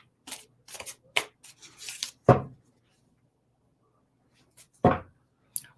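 Tarot cards being shuffled by hand in a quiet room, a series of crisp riffling bursts and soft flutters with short pauses between them, close and clear with no talk over them.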